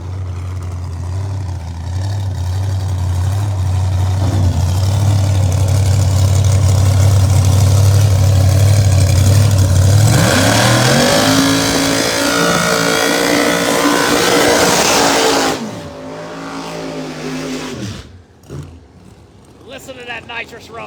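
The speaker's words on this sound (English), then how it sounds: "Listen to that nitrous powered Fulton machine rumble through on the other side" A nitrous-powered, Fulton-engined pro mod drag car at the Bradenton World Series rumbles loudly with a deep, heavy idle. Its pitch climbs as it moves through, then the sound fades out, with crowd and track noise around it.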